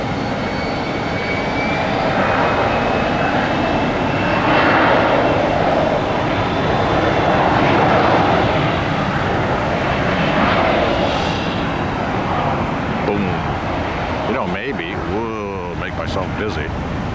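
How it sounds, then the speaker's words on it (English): An airliner starts its takeoff roll on runway 10 at Tampa International, a loud, steady jet engine roar heard from a distance, rising and swelling over the whole stretch, with a brief burst of other noise near the end. "here they are starting their runway 10 takeoff"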